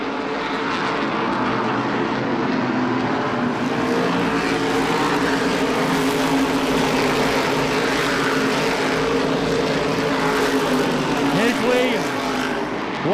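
Stock cars race at the 2007 MRS Oktoberfest 100, their engines a loud, continuous roar that stays steady throughout as the field runs close by.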